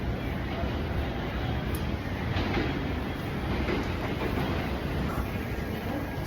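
A local train on the Yutorito line in Nagoya rumbles with a dense, continuous roar of wheels and running noise, loud and close from start to finish.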